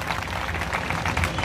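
Audience clapping for parents at a Buddhist sermon gathering, a steady wash of many hands applauding together at moderate loudness throughout, with no break.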